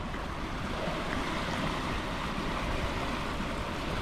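Ocean waves at high tide rolling onto a beach, a steady, continuous wash of surf with a broad hiss and low rumble, fairly close and without talk.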